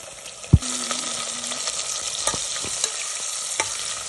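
Onions and curry leaves drop into hot oil with cumin and mustard seeds, starting with a sharp thump and hiss that settles into a steady sizzle, with occasional stirring clicks close by.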